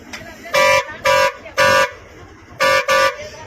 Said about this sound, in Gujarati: વાહન ચાલક હોર્ન મારે છે